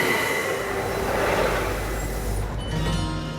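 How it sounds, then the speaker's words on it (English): A bright orange passenger train in Latvia rumbles past steadily, with rolling wheel noise and faint metallic squeal, loud and close throughout. "another bright orange train, just like the last bright orange train"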